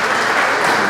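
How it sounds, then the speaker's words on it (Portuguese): Dense, loud applause from a church congregation at a Mass, cheering the singers; a continuous wash of clapping with no gaps over the whole second. "Uma salva de palmas para os nossos"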